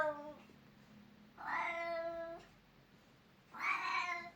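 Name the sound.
cat meowing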